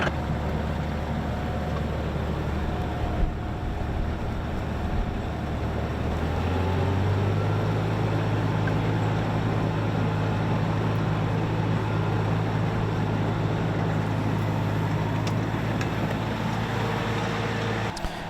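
A John Deere 5075e tractor drags an Oliver 3-16 plow through sod, its engine a steady close drone that deepens and grows louder partway through, with wind rushing over the microphone.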